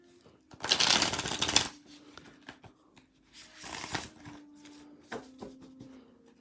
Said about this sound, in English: Beautiful card stack to shuffle with